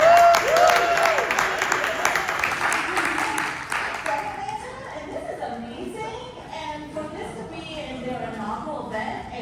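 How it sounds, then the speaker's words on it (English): Applause from a panel audience at Atlanta AI Week swells loudly at first and then thins into scattered clapping, with murmuring and chatter from the crowd continuing underneath. "can we just give a really big round of applause for the first Atlanta AI Week?"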